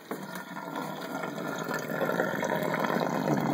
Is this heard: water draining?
yes